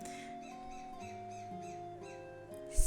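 Seagulls in modded Minecraft give short, repeated, slightly rising cries over steady background game music.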